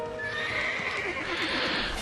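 Horse in the video game Lost Odyssey lets out a loud, shaky whinny over a continuous game soundscape with faint clopping hooves, the neigh wavering steadily for a couple of seconds.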